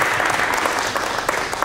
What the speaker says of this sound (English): Can we give a round of applause for OLM?